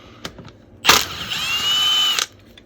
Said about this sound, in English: The ratchet.